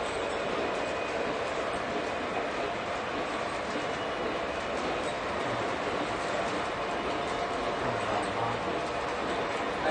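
A Lionel Legacy model train runs steadily under throttle control, giving a continuous, even rumble with faint rail clatter throughout, with no talk.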